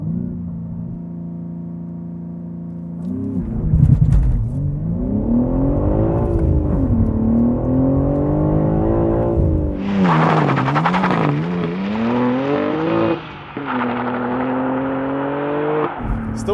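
A manual 2025 BMW M3 roars through a launch-control start on a loose, imperfect surface, engine revving hard and rising through gears with a sharp upshift midway, loud and close with no talk over it.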